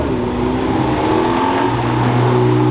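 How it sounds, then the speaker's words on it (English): Muscle car downshifting and accelerating hard past a police car, a steady loud engine roar with a deep rumbling drone throughout, close and continuous with no speech. "Just downshifts and sends it in front of the cop."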